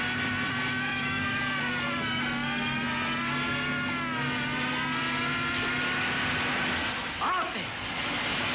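A car racing along at speed in a 1970s Hindi film scene gives a sustained engine drone with rising and falling whine, steady and fairly loud, with a brief disturbance near the end.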